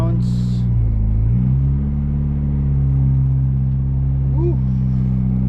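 A Toyota Supra with an Eclipse exhaust drones with a deep, steady low rumble while driving, loud and close, with a slight shift in engine tone partway through.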